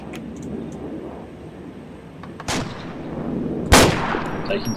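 Gunfire in a tactical shooter game. Two sharp shots ring out over a steady low background hum, the second one louder and harsher than the first.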